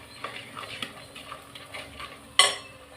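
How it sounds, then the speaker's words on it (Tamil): Dried fish curry with chili powder being stirred in a pan: a run of soft, close scraping strokes in a steady rhythm, ending with one sharper clink of the spoon against the pan. "நல்லா மிக்ஸ் பண்ணி விட்டுக்கலாம்"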